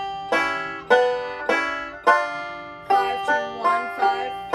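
Bright plucked banjo notes ring out in quick rolling patterns, each cluster of picks starting sharply and decaying, played solo with no talking.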